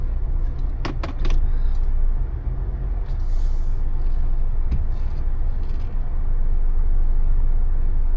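A long-haul truck parks, its air brake letting out a couple of sharp hissing bursts early on over a steady low engine rumble, followed by softer clunks and hisses as the idling continues.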